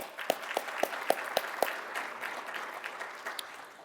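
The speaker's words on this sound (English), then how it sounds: "let's give them a round of applause" A small audience at a school district athletic hall of honor ceremony claps, with a few distinct sharp claps standing out at the start over a soft, steady patter of hands that continues throughout.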